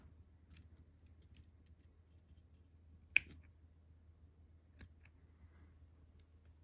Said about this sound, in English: I'm gonna go ahead and trim it off.